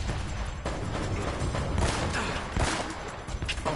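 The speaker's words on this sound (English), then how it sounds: "Getting a shootout in church." Continuous shootout inside a church in Uncharted, with sustained gunfire crackling and booming in rapid irregular bursts, loud and close throughout.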